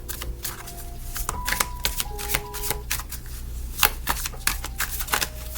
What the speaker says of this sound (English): Actually, let me shuffle it.